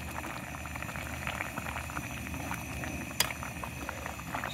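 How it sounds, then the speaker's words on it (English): Steady bubbling and popping of water at a rolling boil, close by and continuous, with one sharp clink partway through. "Oh, it's boiling."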